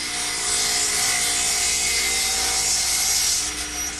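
Radial arm saw cutting through a wooden center block, a loud continuous whining rasp of blade through wood held steady for several seconds, close and alone.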